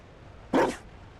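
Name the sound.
dog barking in video game Dragon Age Inquisition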